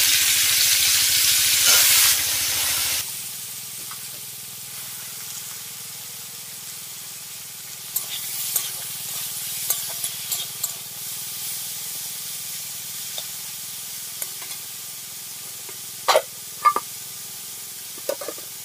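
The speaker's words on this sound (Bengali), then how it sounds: "ক্যাংরোল আর উচ্ছে একসাথে ভেজে নিচ্ছি" Bitter gourd and teasel gourd frying in oil in a wok: a loud spitting hiss bursts out at first, then settles into a quieter steady sizzle with scattered crackles and clinks of stirring.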